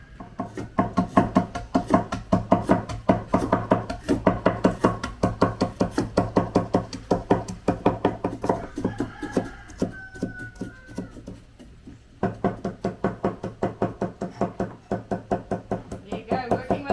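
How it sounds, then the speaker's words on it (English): Fine, rapid chopping with a knife on a cutting board during a cooking class, a steady close run of sharp knocks with a short pause midway before the rhythm resumes. "Fine chopping? Yes. No, not long, fine chopping"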